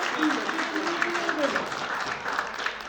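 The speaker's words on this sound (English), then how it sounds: "Can we get a clap for passion?" A crowd claps steadily throughout, a dense patter of applause with a voice speaking faintly underneath.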